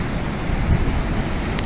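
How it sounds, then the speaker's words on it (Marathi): Foaming sea waves wash steadily onto a shore where boys are fishing, a continuous broadband rush of surf mixed with wind buffeting the microphone, fairly loud and without pause. "फेसाळलेला समुद्र"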